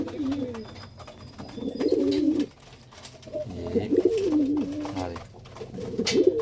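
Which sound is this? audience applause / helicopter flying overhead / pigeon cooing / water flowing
pigeon cooing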